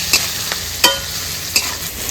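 Garlic, green chilies, turmeric and salt frying in hot oil, a soft steady sizzle with a few sharp scrapes of a spatula stirring the pan at irregular intervals.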